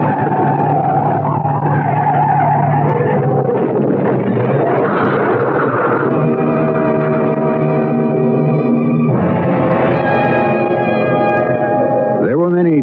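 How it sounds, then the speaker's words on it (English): A car skids with long squealing tires that build and waver, then a crash into a guardrail, staged as a radio drama effect, loud and continuous with voices mixed in. "the skid that sent him hurtling through the guardrail"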